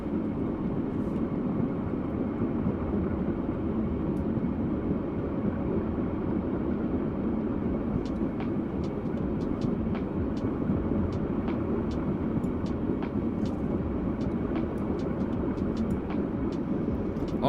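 A diesel express railcar running through the British countryside in a train simulator game: a steady low engine rumble and rolling drone, constant and fairly loud, with faint ticking clicks in the later part and no talk.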